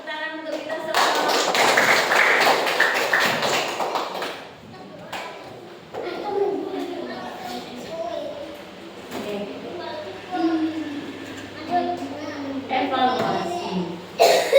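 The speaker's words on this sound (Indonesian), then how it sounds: "tepuk tangan untuk kita semua" A classroom of pupils gives a brief round of applause, a dense burst of clapping for a few seconds that fades into a teacher talking.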